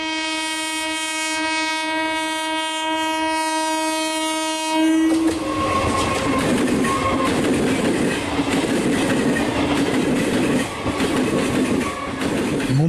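A train horn blares with a long steady tone, then a Mumbai local train rumbles past close by, wheels clattering loudly for several seconds.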